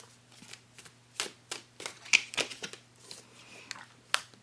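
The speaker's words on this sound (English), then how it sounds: "I feel like getting an oracle card for you." Oracle cards are shuffled by hand in a quiet room, a series of soft irregular riffling and flicking bursts with brief pauses between them, close and fairly faint over a low electrical hum.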